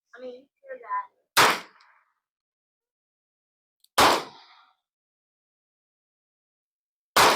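A .22 caliber Iver Johnson revolver fires three sharp, loud shots spaced several seconds apart, each ringing briefly. Brief speech comes just before the first shot.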